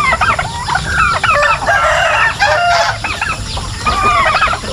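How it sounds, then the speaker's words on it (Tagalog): Flock of farm chickens clucking steadily and busily while pecking at mixed feed, a close, continuous chorus of overlapping clucks with a few louder calls and no talking. "So ayan, yung mga manok kinakain na oh."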